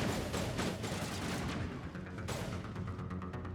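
Rapid, dense gunfire from a firefight in the video game Mass Effect 1, a steady barrage of overlapping shots that stays loud and continuous throughout.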